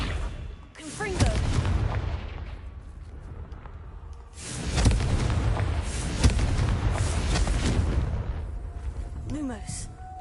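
Confringo explosive spell in Hogwarts Legacy, heard as repeated loud booming blasts with whooshing tails. A rumbling burst comes early and a longer run of impacts follows midway, with speech mixed in.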